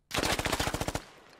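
Rapid burst of about a dozen automatic gunshots in a squad-based urban combat shooter video game, evenly spaced and loud, ending abruptly with a brief fading echo.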